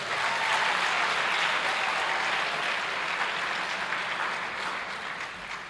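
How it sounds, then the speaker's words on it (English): A large audience in a lecture hall gives a speaker a sustained round of applause, dense even clapping that tapers slightly at the end. "Let's give him another big round of applause."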